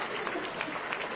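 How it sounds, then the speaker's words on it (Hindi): Dense crowd applause at a political booth coordinators' meeting in Chandni Chowk, Delhi, a short, steady burst of many hands clapping together, even and moderately loud. "एक बार इस शुभ भक्त के लिए जोरदार तालियां भी बजा"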